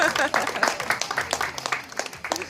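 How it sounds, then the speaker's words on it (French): Applause and cheering at a children's chess tournament prize ceremony in St Barthélémy, with uneven clapping under overlapping voices throughout the short stretch. "On l'applaudit bien fort. Bravo."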